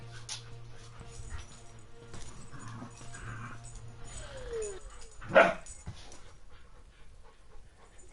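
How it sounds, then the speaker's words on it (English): Puppies playing nearby, with scattered yips, barks, whimpers and panting spread through the stretch and one louder bark-like burst in the middle, over a low steady background hum. "Apologies for the dog noises. My puppies are playing in front of us."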